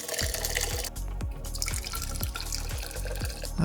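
Coffee pours into a Ninja mug in a steady gurgling stream with rhythmic glugging pulses, close and fairly loud throughout with no talking.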